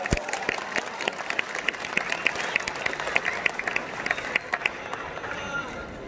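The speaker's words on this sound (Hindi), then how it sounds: "अरे बस जोरदार तालियां बजा दीजिए।" An audience at a Hindi poetry gathering, a kavi sammelan, applauds with quick, uneven clapping, moderately loud with some crowd noise and voices mixed through it.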